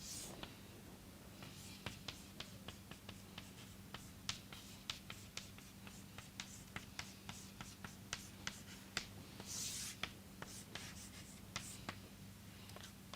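Quick, faint scratches and taps of writing on a board during a math lecture on derivatives, a steady run of small strokes across the whole stretch with low room hum.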